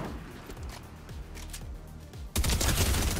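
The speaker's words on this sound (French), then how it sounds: "ça tire à gauche" Fortnite gunfire cracks out in a rapid burst of shots, then becomes a dense, loud volley of overlapping gunfire near the end, with no voices over it.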